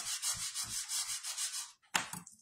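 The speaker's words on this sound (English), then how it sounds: "And then you want to go over it with your bind folder." A bone folder is rubbed firmly over glued paper on a craft project, making a series of close, rhythmic scraping strokes. A short pause follows, then one more brief burst of rubbing.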